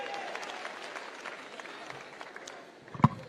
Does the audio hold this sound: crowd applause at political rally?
yes